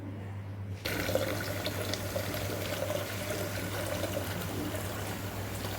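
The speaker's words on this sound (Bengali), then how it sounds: "জলটা দিলাম দইয়ের মধ্যে" Water poured into sour yogurt for a lassi, arriving abruptly as a close, steady splashing stream that runs unbroken over a low background hum.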